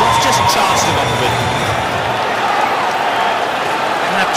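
A cricket crowd at a Twenty20 World Cup match roars and cheers after a string of sixes, a loud, continuous wash of stadium noise with clapping and shouts, carrying steadily throughout.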